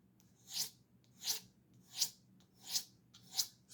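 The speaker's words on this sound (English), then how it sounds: "So I'm going to sand that down." Five short, evenly spaced rasping strokes of sandpaper filing a burr off a Demko 5-Max folding knife part during a lube and tune, close and fairly quiet, with no talk.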